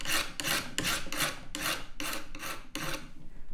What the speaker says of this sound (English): And scrape the edges a bit smoother